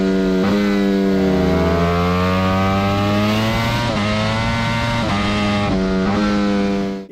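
A 2023 BMW S1000 RR sportbike engine revving up and down in repeated loud, close passes, the harmonic pitch rising and dropping between throttle blips, with no talk over it.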